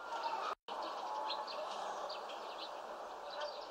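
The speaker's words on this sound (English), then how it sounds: "Those crows will still be here tomorrow." Crows calling in the video game The Dark Eye: Chains of Satinav, scattered harsh caws over a steady outdoor ambience, moderately faint, with a brief dropout near the start and no talk.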